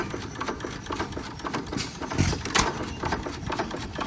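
An antique engine runs steadily at a vintage power show, giving a quick, even mechanical chatter with rhythmic knocks, heard close and fairly loud with no talk over it.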